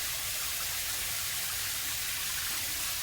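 Water running from a faucet in the game Trüberbrook, a steady hissing stream pouring without pause, bright and constant at moderate loudness, no voices.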